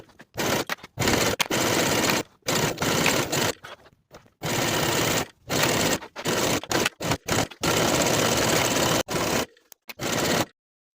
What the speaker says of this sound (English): I'm going to sew around the entire perimeter of the jacket